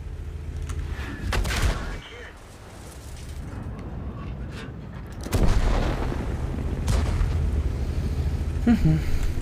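M48 Patton tank main gun firing in the World of Tanks video game, two sharp loud booms several seconds apart with rumbling battle noise and engine drone between them.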